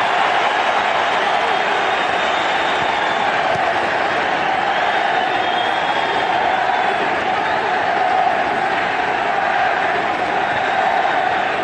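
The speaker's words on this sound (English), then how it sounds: "The crowd are absolutely in raptures here in the MetLife Stadium" Football crowd filling the MetLife Stadium at a Barcelona versus Juventus match, a dense, sustained roar of cheering at moderate distance with no clear pauses.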